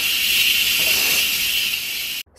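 Steady, loud hiss of steam venting from a pressure cooker valve after cooking beef birria, continuous for about two seconds before cutting off abruptly.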